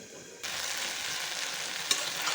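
Chicken bhuna with tomato being fried and stirred in oil in a pan, a steady soft sizzle that swells as stirring begins, with a brief scrape near the end.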